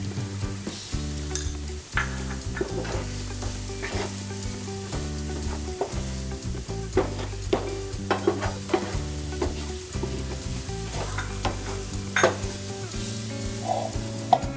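Ground chilli powder and garam masala stirred and fried in a pan for a red spinach cutlet, with a steady sizzle and repeated scraping stir strokes throughout. Rhythmic tonal thumps from background music play along, and nobody speaks.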